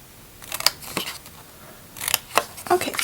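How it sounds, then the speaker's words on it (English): Scissors snip through cardstock along scored lines for a small three-nugget paper box, a few sharp cuts in quick bursts separated by pauses. "Just chop off this first little section and then cut along all those little score lines."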